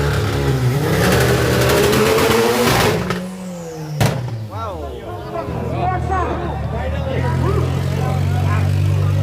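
An Audi engine revs hard at a drag race. It roars loud and close, then winds down and drops into a fluttering idle under crowd babble and nearby talk.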